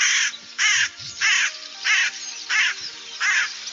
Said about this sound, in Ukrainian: Ця пташка великого розміру, з міцним дзьобом, ворона чорно-сірого забарвлення. А ще вона голосно каркає.